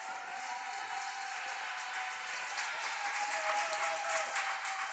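Parents in the stands at a youth swim meet applaud and cheer in a steady, sustained burst of clapping that fills the indoor pool, continuous and fairly loud throughout.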